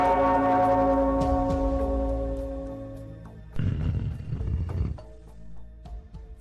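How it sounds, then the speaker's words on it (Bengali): A large bell rings out loud with a long sustained ringing tone that slowly decays, followed by a burst of noisy commotion and a few lighter metallic tones. "ওই ঘন্টাটা বাজাও,"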